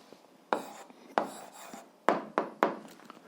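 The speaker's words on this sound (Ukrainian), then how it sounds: "Записуємо відповідь." Answer to an eighth-grade algebra exercise written by hand, with a handful of short scratchy strokes, close and fairly quiet, spaced unevenly over a few seconds with no talking.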